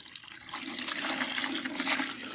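Water runs steadily as protein treatment is rinsed out of natural hair without shampoo, a continuous close splashing hiss with no voices.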